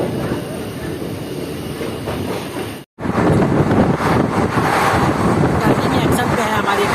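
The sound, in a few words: Jaynagar–Samastipur passenger train running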